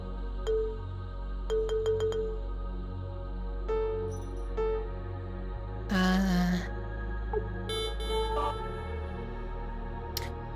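A synthesizer plays short electronic beeps and tones during oscilloscope testing: a quick run of repeated blips, then sparse single notes and a brief noisy burst over a low steady hum, fairly quiet and without talk.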